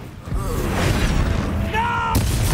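A Bombarda spell blast in Hogwarts Legacy, a loud booming burst with a whooshing tail and a second impact near the end, heard alongside game voices.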